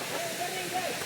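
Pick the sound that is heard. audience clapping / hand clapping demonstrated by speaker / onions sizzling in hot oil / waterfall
waterfall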